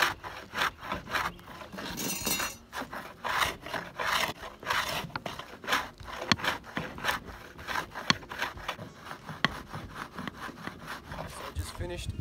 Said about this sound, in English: been using just a standard block plane to get down to wood